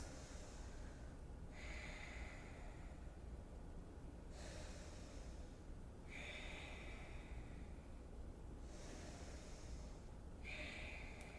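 Deep, slow breaths drawn during a yoga session, three long inhale-exhale cycles repeating steadily at close range with no talking.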